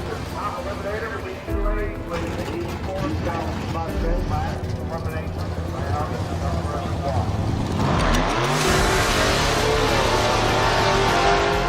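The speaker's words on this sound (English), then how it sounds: "Here we got the 3-seater Dragster by Proud American Motorsports" A three-seater dragster from Proud American Motorsports rumbles at an American Drag Racing League event, its engine idling and revving loudly nearby under a talking voice, swelling sharply toward the end.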